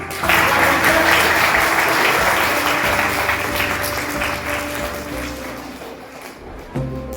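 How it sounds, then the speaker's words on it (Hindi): Loud, dense audience applause at a Teachers' Day speech event in a school, starting strong and gradually thinning out toward the end. "अगर आपकी जोरदार तालियों की मेहरबानी रहेगी।"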